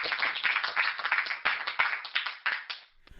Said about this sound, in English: why don't we end our interview with a nice round of applause.